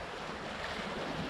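Ocean waves wash through a beach sifter propped on two small skids, making a steady, close rushing hiss of surf and churning water mixed with wind noise, with no one talking.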